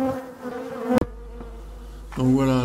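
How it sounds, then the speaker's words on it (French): Honeybees from a swarm gathered on a branch give a steady buzzing hum, broken by a sharp knock and a short quieter stretch before the buzzing returns. "Je vois qu'il y reste sur la branche quelques abeilles que je vais aller chercher."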